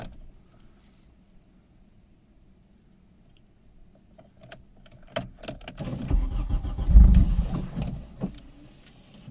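An old car sits quiet, then its starter clicks and cranks before the engine catches and runs up loudly, rough and close, with a few clunks along the way.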